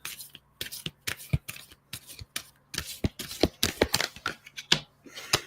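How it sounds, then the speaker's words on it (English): Tarot cards are shuffled repeatedly up close, a run of quick papery riffles and snaps in irregular bursts with brief pauses between them. "I'm basically shuffling these cards the whole time."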